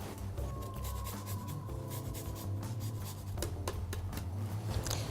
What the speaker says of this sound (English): I'm just going to grate the zest into my pan.